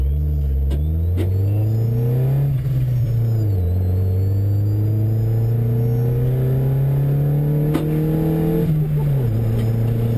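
A chopped car with a lowered roof runs loud and close throughout, its engine pitch climbing and dropping as it revs and shifts gears while driving.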